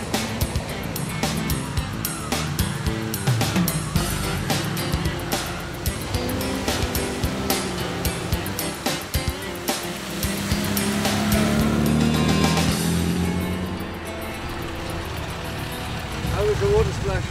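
A rally car drives through a water splash during the Royal Automobile Club 1000 Mile Trial, its engine running throughout while a loud rushing surge of water rises near the middle, with someone talking over it.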